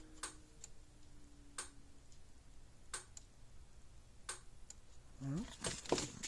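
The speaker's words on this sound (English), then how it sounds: "Clicking." A repaired Gallagher S10/S16/S20 solar fence charger clicks just after being switched on: sharp, evenly spaced ticks about every 1.3 seconds, fairly faint over a low background hum, with a brief handling rustle near the end.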